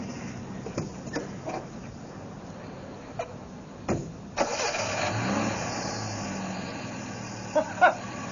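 A vintage car engine is cranked and catches, with scattered clicks and short bursts before a steady running rumble settles in, fairly close and without talk.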